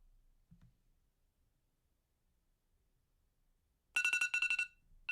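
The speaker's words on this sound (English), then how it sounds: "That's the timer" A match-countdown timer alarm goes off in a short, loud burst of rapid electronic ringing pulses lasting under a second, after several seconds of near silence.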